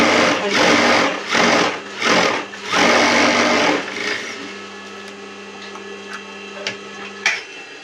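A sewing machine stitches a blouse in four loud, rhythmic bursts of whirring, then falls quiet to a low steady hum with a few faint clicks of handling.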